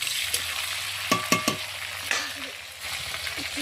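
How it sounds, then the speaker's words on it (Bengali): Raw chicken tipped into a hot frying pan over a wood fire with tomato already frying, sizzling steadily while a spoon scrapes and stirs in a few quick clattering strokes. "চিকেনটা দিয়ে একটু নেড়ে"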